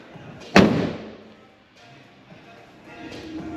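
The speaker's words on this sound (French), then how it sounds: "Fermer le compartiment moteur." A single heavy thud of an Audi RS3 8V engine hood slamming shut, loud and close, followed by quiet room ambience.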